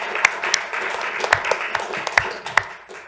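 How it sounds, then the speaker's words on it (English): Audience applause at a township board of commissioners budget meeting, a brief patter of scattered claps from a small crowd in a room, moderately close and fading quickly. "We give a round of applause."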